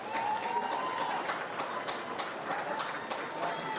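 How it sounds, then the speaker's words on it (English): A crowd claps steadily, a dense patter of many hands applauding at moderate distance for several seconds. "A big round of applause for the Waverley Blues."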